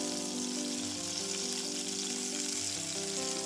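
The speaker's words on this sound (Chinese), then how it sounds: "按同样的方法煎豆腐的另一面，晃动锅，让豆腐受热均匀。" Tofu pan-fries in oil as the pan is shaken, a soft continuous sizzle heard under steady background music.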